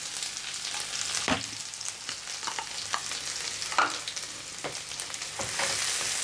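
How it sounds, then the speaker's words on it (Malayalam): Chicken filling with chopped green chillies and capsicum frying in a pan for chicken mayo rolls, a steady close sizzle punctuated by sharp scraping strokes of a spoon as it is stirred, with no voices. "ഒരു 2 മിനിറ്റ് ഒന്ന് ഇളക്കി കൊടുക്കാം"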